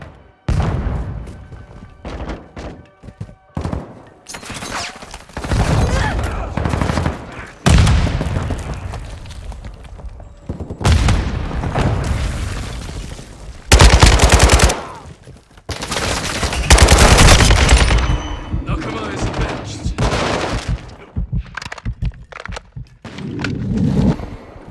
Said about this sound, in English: Throwing decoy grenade!